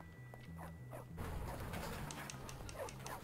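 A dog in the video game Bully: Scholarship Edition whimpers in faint, short whines over a low background hum and game ambience, with no talk.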